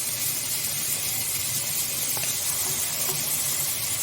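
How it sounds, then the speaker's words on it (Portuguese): Diced fresh tomatoes, seeded, sauté in a hot pan for a meat lasagna sauce, giving a steady, close, even sizzle and hiss with faint crackles and no talking. "Vou deixar refogar um pouco mais também."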